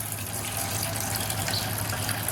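Top water being gently drawn off semolina that has soaked for three days to make kurdai, a steady liquid pouring and running sound that holds at an even level throughout, close by.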